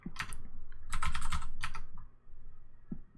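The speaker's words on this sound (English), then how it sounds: "So let's just type in here" Short bursts of typing on a computer keyboard while coding a smart mirror app in Ionic, crisp close key clicks in a few quick clusters separated by brief pauses.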